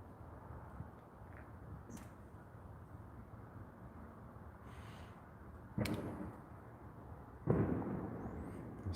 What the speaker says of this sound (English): There's still fireworks going off out here.